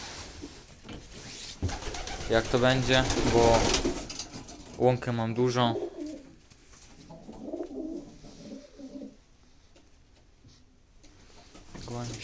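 Pigeons cooing close by in a backyard loft, rhythmic throaty coos in two strong bursts followed by softer calls, with someone talking alongside.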